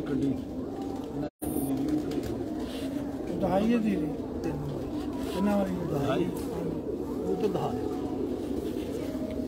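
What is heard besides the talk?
Heera Laal breed pigeons cooing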